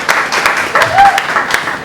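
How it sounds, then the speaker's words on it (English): Audience at an open-mic night in a Geneva, Ohio nightclub claps in scattered, uneven bursts with a few sharp individual claps, a faint sustained tone and some voices mixed in. "Give yourselves a round of applause."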